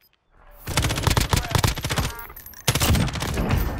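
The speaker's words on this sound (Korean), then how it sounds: "이거 내 총알 먹으세요." A sudden, loud barrage of rapid gunfire rips through a Call of Duty: Warzone fight, close and dense, breaking off briefly and then resuming in a second heavy burst.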